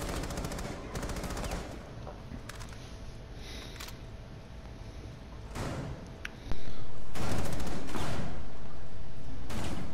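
Gunfire in Rainbow Six Siege during a Terrorist Hunt match: repeated bursts of automatic fire and single shots cut through a steady game background, growing louder and denser in the final seconds, with occasional faint talk.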